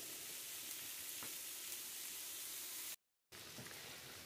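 Courgette pieces frying in a pan with a little water added, giving a steady, close, even sizzle with a soft stir partway through and a brief cut to silence near the end.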